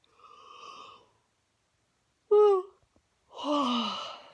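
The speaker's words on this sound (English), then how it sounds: "Sorry, did my yawn wake you up?" A long, drawn-out breathy yawn, then a sharp short vocal gasp, followed by another sighing yawn-like exhale, all close and without words.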